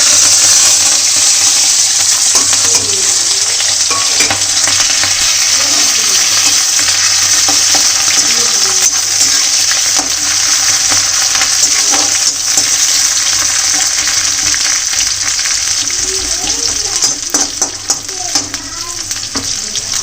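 Vadas frying in oil in a kadhai, a steady loud sizzle that runs through the whole stretch with faint stirring scrapes and bubbling underneath, and no talking.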